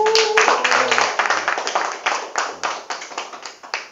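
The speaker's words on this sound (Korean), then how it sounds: "박수 한번 주실래요?" Audience applause at a Korean lecture concert, a room of hands clapping in a dense burst that gradually thins and tapers off, with a voice briefly audible near the start.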